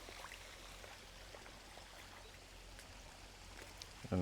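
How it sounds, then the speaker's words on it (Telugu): Water spilling over a check dam in a village stream, a faint, steady rushing hiss from a distance with scattered small splashes, no talking, and a short louder thump at the very end. "ఇటు సైడ్ కూడా నీళ్ళు దుంకుతానే చూడండి."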